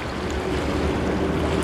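A raging year-round creek on rural hunting acreage in California rushes in a steady, dense roar of flowing water, loud and continuous with no pauses or voices.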